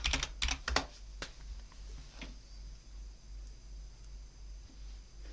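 A computer keyboard clatters through a short burst of quick keystrokes, as when a password is entered, then falls quiet apart from a low steady hum.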